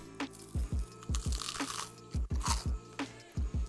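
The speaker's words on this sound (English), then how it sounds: "Crunch test number two. The Parmesan covered ones." Homemade Parmesan-covered croutons crunched between the teeth in a rapid, close series of sharp, crackly bites with brief pauses.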